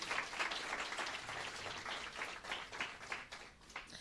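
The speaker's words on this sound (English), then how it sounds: "Please give them a round of applause" An audience at an awards ceremony applauds, a faint, continuous wash of clapping from a crowd at a distance that holds for a few seconds.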